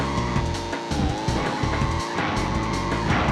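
Karts drifting and skidding in Crash Team Racing Nitro-Fueled, heard as loud continuous engine whine and tire squeal that hold steady for a few seconds, with some overlapping game music or effects.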